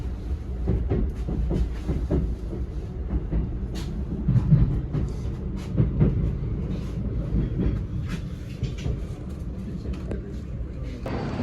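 A passenger train bound for Riga, Latvia, rumbles along the rails with a low, continuous roar and scattered sharp clicks and knocks from inside the carriage, while people talk now and then.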